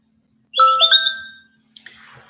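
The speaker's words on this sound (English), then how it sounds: "That's the noise that when I do my videos that you guys always hear in the background." A phone notification chime sounds alone: a bright, multi-note electronic tone lasting about a second, then a shorter, fainter burst follows after a brief pause.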